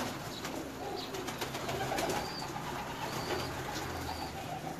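Pigeon cooing, a prized female bird, heard low and soft beneath a steady wash of outdoor background noise, with faint scattered calls throughout.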